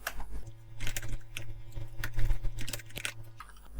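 Keys on a computer keyboard clatter while VBA macro code is typed, a run of sharp, uneven clicks over a steady low electrical hum, close and fairly clear.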